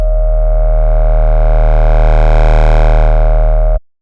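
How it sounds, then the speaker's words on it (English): Two sine tones are heavily distorted into a harsh, buzzing synth screech that holds loud and unchanging for nearly four seconds, then cuts off abruptly into silence. "you start to hear the beginning of a screech"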